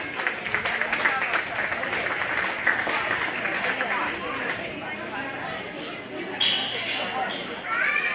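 Spectators at a 4-H and FFA beef and bucket calf show at the Greene County Fair clap for a young exhibitor, scattered applause under an announcer's voice that tapers off, with livestock movement in the background.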